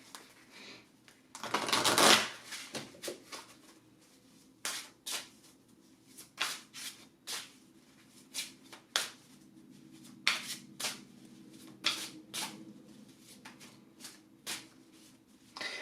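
Oracle cards being shuffled: a loud riffling burst near the start, then a long series of separate soft snaps and flicks as the cards are cut and handled, close up with no talking.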